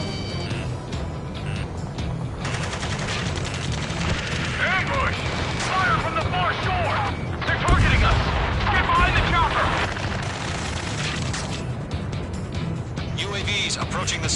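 Dense Ace Combat 7 jet-combat action with continuous roaring engines, booming explosions and bursts of gunfire and missile launches, loud and sustained, with radio chatter voices speaking over the din.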